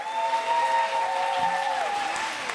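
A concert audience at a closing show applauds the drummer, a sustained even wash of clapping that fills the hall, with lingering tones from the stage under it.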